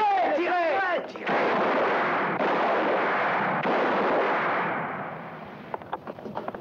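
Gunfire breaks out in a French-language western film, a loud, dense roar of shots that surges in after a short tonal sound, rumbles on steadily, then fades into a few scattered sharp cracks.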